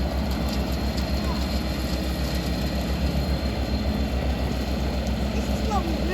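A Kubota tractor engine running at high revs, a steady low rumbling drone with a throbbing beat, loud and continuous throughout.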